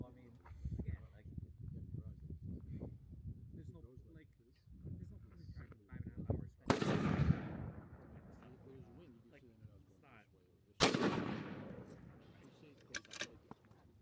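Two sharp rifle shots at a 600-yard match stage crack out several seconds apart, each loud with a rolling echo trailing off, while someone narrates quietly between them.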